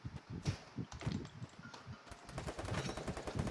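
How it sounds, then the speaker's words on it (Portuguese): Rapid bursts of gunfire from a battle royale video game, dense and repeated throughout with sharp overlapping shots at moderate loudness and no speech. "dá um tiro nele, Caio."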